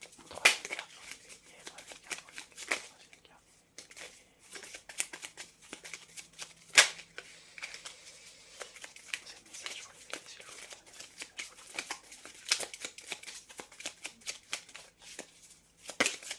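Tarot cards shuffled and drawn by hand, soft close riffling and brushing with scattered sharper flicks and snaps in irregular bursts, quiet throughout.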